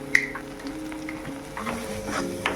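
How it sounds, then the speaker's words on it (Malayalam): Chopped chicken tossed with turmeric, pepper and masala powder is stirred in a pan, with soft scraping, light clinks of a utensil and a faint sizzle close by. "മാറ്റി വെച്ച ചിക്കൻ, ഈ അരിഞ്ഞ് വെച്ച ചിക്കൻ എന്ത് ചെയ്യുക, നല്ലോണം ഇത് മിക്സാക്കി എടുക്കുക."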